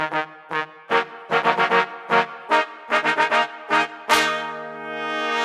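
Virtual trumpet brass chords with vibrato and key-switched articulation play a series of short, punchy stabs in quick rhythmic bursts, then end on one loud, sustained final chord.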